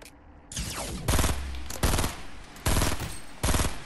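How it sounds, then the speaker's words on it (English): Video game gunfire in rapid automatic bursts, four or five loud close volleys separated by brief pauses, with no talking. "are you getting shot at? Yeah, I am."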